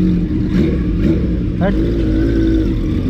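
An old, roughly 40-year-old four-cylinder motorcycle engine revs with a deep, continuous rumble that swells briefly midway, while a person talks over it.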